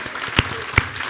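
An audience claps for the president at a company launch event, a brief burst of applause with two sharper, louder clap peaks rising above the steady patter.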